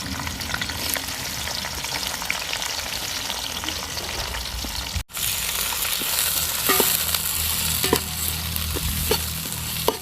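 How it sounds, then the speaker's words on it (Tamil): Sliced onions with whole spices, including cinnamon, cloves, cardamom and green chilies, sizzle steadily in oil for an outdoor village-style mutton dum biryani, with stirring scrapes throughout and a brief break in the frying noise midway. "4 பெரிய வெங்காயம் நீல வாக்கில் கட் பண்ணி வச்சுருக்கேன்,"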